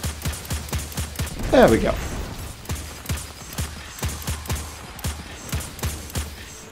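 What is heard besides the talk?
gunfire shooting at a target, from video game Destiny 2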